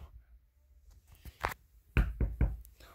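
Knocking on a door, a few scattered light taps followed by a louder cluster of three firm knocks, close by with no talk over them.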